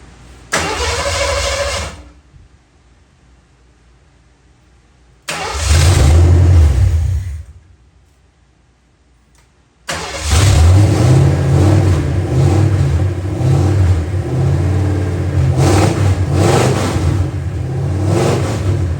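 A 1972 Mercury Comet engine, fitted with a two-barrel carburetor on an adapted four-barrel intake, cranks and catches in two brief loud attempts, then starts and keeps running steadily, close up.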